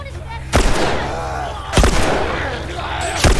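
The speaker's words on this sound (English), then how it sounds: "I don't care how many gunshots it takes, you're gonna die." Three heavy gunshots from The Last of Us boom out about a second apart, each loud and close with a ringing echo between them.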